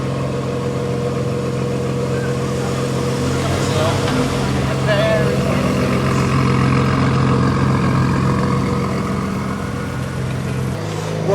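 Engine of a stock VW Golf R Mk7 running at a steady idle-like drone while the car sits on dyno rollers, a continuous loud hum with people talking over it.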